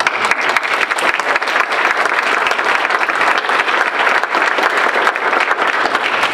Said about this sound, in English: let's all clap for you